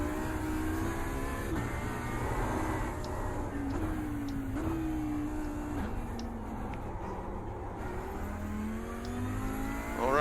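A GT3 race car in a Long Beach racing video game revs hard through its gears. Repeated rising engine pitch sweeps are cut by shifts, and the close engine howl stays continuous.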